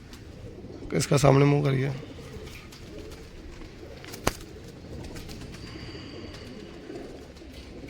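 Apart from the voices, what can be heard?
pigeons cooing in a loft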